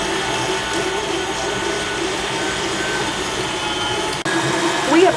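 An electric grain mill grinds einkorn grain into flour, a steady loud whirring drone with a brief dip near the end before resuming.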